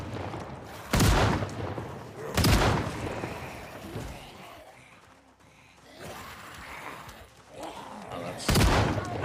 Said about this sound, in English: I'm shooting the gun right here.